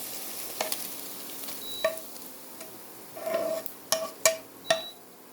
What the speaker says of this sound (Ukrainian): Висипаємо засмажку.